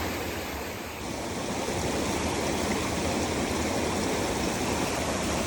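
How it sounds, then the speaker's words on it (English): A stream of water flows steadily near a hiker about to wade across it in the Berchtesgaden mountains, a dense, continuous rushing wash with no voices. "I need to cross the water in some way, somewhere."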